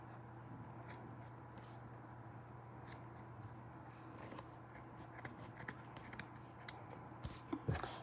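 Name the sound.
scissors cutting felt for masks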